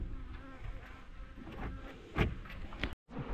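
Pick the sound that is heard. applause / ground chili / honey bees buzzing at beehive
honey bees buzzing at beehive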